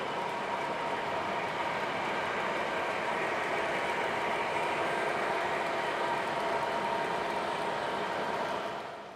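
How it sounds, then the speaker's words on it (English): A long model freight train of more than fifty cars runs on a layout, giving a steady, continuous rolling rumble and wheel clatter that stays close and even throughout before easing slightly at the end. "Long freight trains."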